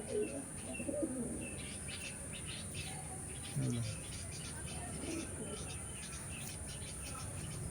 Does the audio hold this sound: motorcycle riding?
no